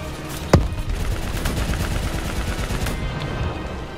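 Rapid, continuous video game gunfire from Call of Duty: Black Ops III, loud and dense throughout with one sharp near shot standing out early, with no talking over it.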